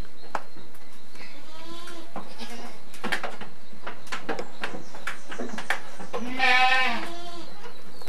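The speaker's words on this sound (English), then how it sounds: "Are you another goat?" Several goats on a family farm in Trinidad bleat in a series of nasal, wavering calls at varying distances, one loud close bleat near the end, with quiet background ambience and no speech.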